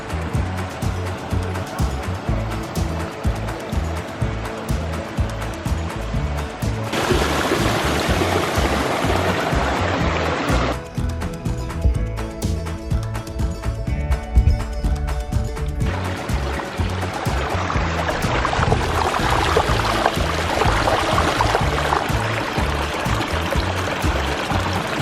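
Waterfalls pouring into a large backyard fish pond, a continuous rushing, splashing wash of water that swells and eases over about twenty-five seconds, with no one speaking.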